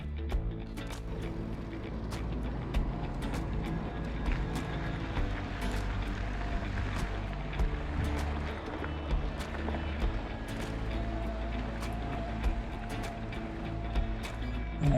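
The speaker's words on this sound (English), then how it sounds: "If you hear the whine noise, that's both the tires on the concrete and the Yamaha motor." A Yamaha motor on a Giant Trance X e+ Pro electric mountain bike whines steadily while its tires roll over concrete, a continuous mechanical drone with faint rattles and scattered clicks throughout.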